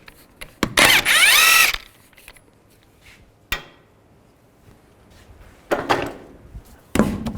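A power tool with a 21mm socket spins off the front wheel lug nuts of a 2005-15 Nissan Xterra during a brake job, with loud whirring bursts, a sharp clank, and quieter gaps between them.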